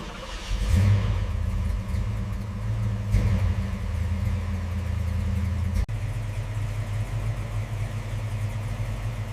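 A 1969 Chevrolet Camaro Yenko SC engine runs close and loud after restoration, a steady deep rumble with a rev swell near the start and a brief dip partway through, no voices.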